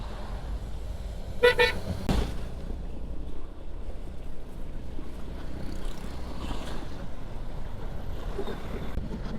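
Car horns toot in a brief burst of honking over steady wind noise and a low traffic rumble in a long jam of vehicles stretching toward Long Beach, with later horn blasts fainter and farther off.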